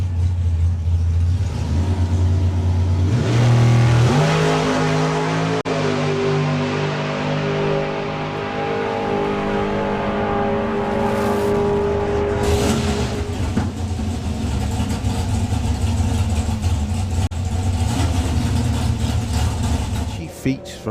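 A drag race car at a street track day revs at the start line and then launches down the strip, its engine note climbing loudly through gears with a steady roar throughout, under a commentator's voice.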